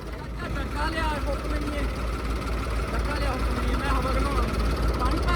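A tractor engine drones steadily and loudly during a tochan pulling power show, a constant low rumble with no break, while voices can be heard faintly in the background.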